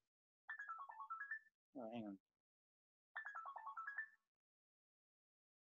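A phone ringtone plays two short descending melodic phrases a couple of seconds apart, with a brief spoken remark between them in an otherwise silent room.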